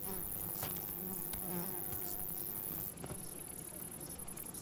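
A wild pantaloon bee buzzes steadily and close on chicory flowers in the morning, a continuous insect drone with slight shifts in pitch.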